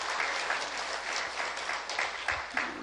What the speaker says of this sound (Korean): 다시 한번 또 격려의 박수를 해드리기 바랍니다